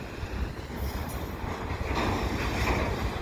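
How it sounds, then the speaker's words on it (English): A CP mixed freight train rolls past westbound at Dorval with steady rumbling wheel and railcar noise, moderately loud and continuous, no voices. "this is the second CP train, westbound as well"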